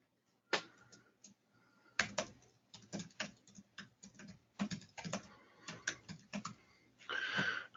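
Someone types on a computer keyboard in quick, irregular bursts of close, crisp key clicks with short pauses between them and a denser flurry near the end. No one speaks.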